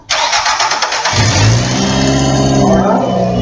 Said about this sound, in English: have my assistant start the car in a moment and let it come down and idle